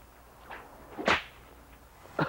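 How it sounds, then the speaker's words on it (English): A bullwhip cracked outdoors, giving a faint early snap then one loud sharp crack near the middle and another at the end, each a brief broadband burst over quiet background. "how to crack a whip"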